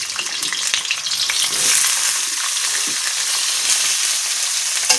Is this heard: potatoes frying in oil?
yes